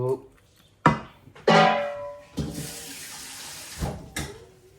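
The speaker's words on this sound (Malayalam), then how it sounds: "കുറച്ച് വെള്ളം ഒഴിച്ചു." Water poured into a cooking pot on a lit stove during chicken curry preparation, coming in splashing bursts between clunks of utensils. Nearby speech runs alongside in spots.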